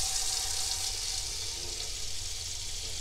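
A hot water tap on a sailing boat runs steadily, giving a continuous bright hissing rush of water into a basin, even and unbroken with no talk.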